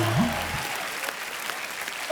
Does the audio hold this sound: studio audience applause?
yes